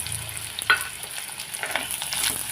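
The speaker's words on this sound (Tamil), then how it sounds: "போட்டு நல்லா வதக்கி எடுத்துக்கணும்." Chopped large onions sautéing in a pan for curry leaves kuzhambu, a soft steady sizzle with a sharp stir or spoon scrape near the start and light stirring throughout, close and fairly quiet.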